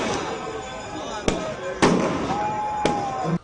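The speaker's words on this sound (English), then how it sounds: "followed by dazzling display of Christmas fireworks that light up the night sky in a kaleidoscope of colors and patterns" Christmas fireworks burst outdoors at night in three sharp, loud cracks spaced about a second apart over a continuous crowd murmur, with a whistling rocket rising between them.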